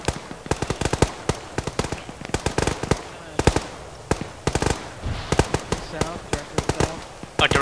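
Rapid gunfire in the military game ArmA 3, dense sharp shots in irregular bursts, loud and close, continuing steadily throughout.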